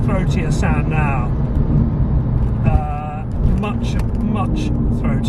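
Porsche 996 engine through a valved exhaust set to loud, a continuous rich rumble heard from inside the car with someone talking over it in short bursts.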